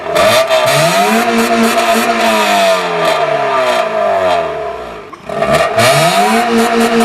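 A Honda Civic hatchback engine with straight-pipe exhaust revs loudly up and down in repeated sweeping bursts, close and raw, dipping briefly before climbing again.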